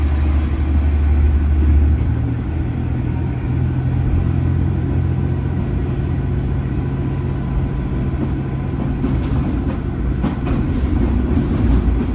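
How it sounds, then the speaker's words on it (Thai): A KiHa 47 diesel railcar from Tsuyama rolls by on the line, a loud continuous low rumble with scattered wheel clicks and rattles near the end. "นี่มีคีฮะ 47 อีกขบวนหนึ่งจากซุยามานะครับสวนมาพอดีอ่ะ"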